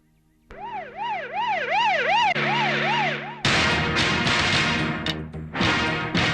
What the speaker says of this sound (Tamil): இந்த ஆம்புலன்ஸ் அடிக்கடி வருதே